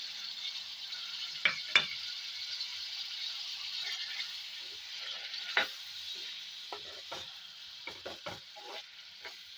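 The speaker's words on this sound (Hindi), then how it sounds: "चिकन हमारी भून चुकी है अब हम इसमें अचार का मसाला डाल देंगे" Chicken already browned for achar gosht sizzles steadily in a hot pan as achar masala is added, with a few sharp stirring clatters and scrapes over the continuous frying hiss.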